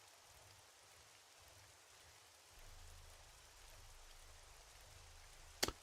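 Rain falls steadily in the survival video game 7 Days to Die, a faint, even wash of hiss with a low rumble beneath and a brief sharp knock near the end.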